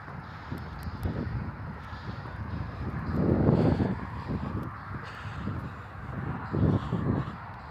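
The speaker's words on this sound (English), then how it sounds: "Looks like we got a flock of seagulls over here." Gulls from a flock call out in harsh, repeated cries over steady outdoor wind noise, rising into louder bursts now and then at moderate distance.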